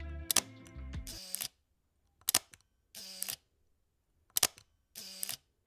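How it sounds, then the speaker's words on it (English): A Leica M8 rangefinder camera shutter fires several times in a row, each release a crisp mechanical double click followed by a short whirring wind, close and loud with silent gaps between. "I do prefer the shutter sound of the M8."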